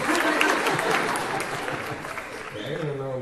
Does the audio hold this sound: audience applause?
yes